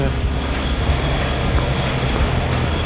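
Trains rumble and roll inside Frankfurt Hauptbahnhof, with a steady loud hum of railcars and regular rhythmic wheel clicks over the rails under the busy station ambience.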